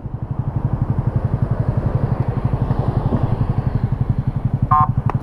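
A small Honda Pop 110cc-class motorcycle engine runs with a steady, fast low thumping pulse, close and fairly loud, holding an even beat through the whole stretch, with a brief high squeak near the end.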